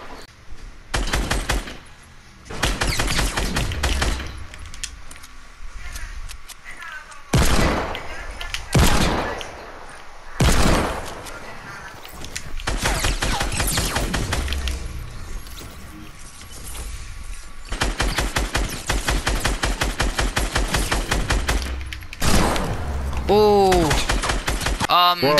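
Long bursts of automatic gunfire rattle loudly in Fortnite, several sustained volleys separated by short pauses, with a voice talking between them.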